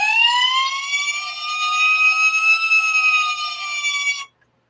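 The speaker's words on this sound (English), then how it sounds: "I can turn the sirens on." A wailing electronic siren from an Agora Models FDNY Ladder 9 scale model fire truck rises and sustains loudly for about four seconds before cutting off abruptly into silence, with no talking.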